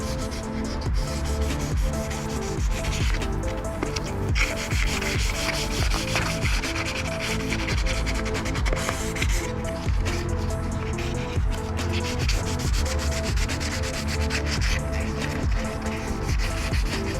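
Continuous rhythmic scratching of sandpaper rubbed back and forth over a Corvette body panel, close and steady with no talking.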